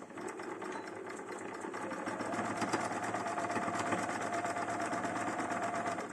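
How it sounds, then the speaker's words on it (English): A sewing machine runs steadily, stitching a quarter-inch seam along a fabric selvage edge for a crumb quilt block, a continuous close whirring hum with a fast rhythmic needle pulse and no talking. "so that I'll be sewing from the beginning of that selvage edge right to the end"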